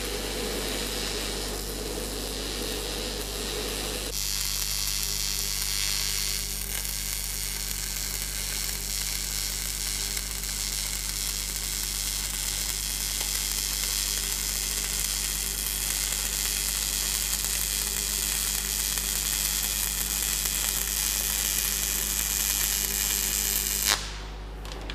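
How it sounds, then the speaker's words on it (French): Shielded metal arc welding of a butt joint gives a continuous, close crackling sizzle that runs steadily with a constant hum beneath it, then cuts off sharply near the end. "La soudure s'exécute en gardant l'électrode au fond du chanfrein."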